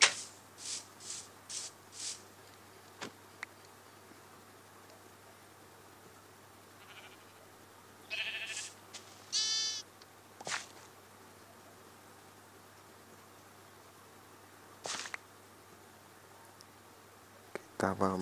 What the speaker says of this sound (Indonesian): Ini dia kambing kita guys